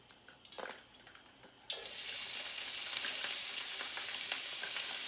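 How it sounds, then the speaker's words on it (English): Little baby shrimp hit a pan with onions, bursting into a loud, steady sizzle that carries on after a few soft clatters of handling, close by with no talking. "My shrimp, I'm going to cook this first with the onions on it."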